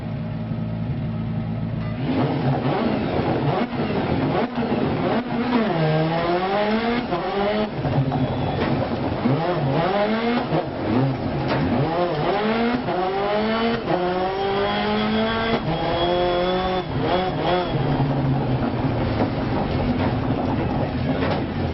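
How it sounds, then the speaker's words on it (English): Car engine sound in a modded video game, a loud sustained drone that rises and falls through repeated revving sweeps and gear changes, continuous for over twenty seconds with no talking. "Try again and see if it sounds like the truck or sounds like the car."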